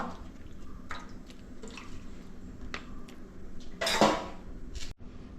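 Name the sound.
washed beef being put into a clay pot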